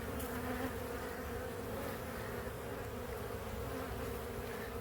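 Honey bees swarm around an exposed slab hive before almond pollination, producing a dense, continuous buzzing drone that stays loud and steady throughout with no voices.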